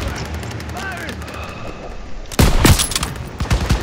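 In a Call of Duty WWII campaign battle, an anti-aircraft gun suddenly opens up with loud, rapid bursts after a stretch of lower battlefield ambience, while voices shout over the combat.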